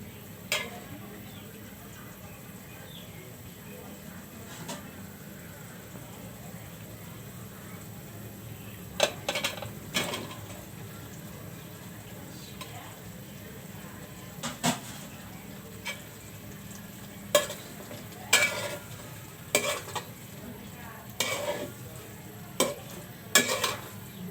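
Goat liver fries in a pan with bay leaves, a faint continuous sizzle under a light hum, punctuated by sharp scraping and clinking stirs that grow more frequent in the second half.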